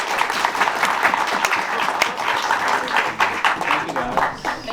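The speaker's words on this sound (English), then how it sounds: "Let's give them a round of applause." An audience gives a round of applause at a high school animation session during a film festival: dense, continuous clapping close by, with some voices mixed in.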